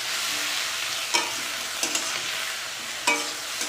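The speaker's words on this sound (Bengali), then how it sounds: "এভাবে নাড়বো।" Potato and eggplant curry being stirred in a pan, a steady sizzle of frying with a few sharp scraping knocks of the spoon against the pan, close and alone without talk.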